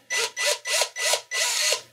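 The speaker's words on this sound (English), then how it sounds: "what I suggest is you get the cordless drill" Five quick bursts of a cordless drill whirring in a rhythmic pattern, each with a rising whine, close and fairly loud.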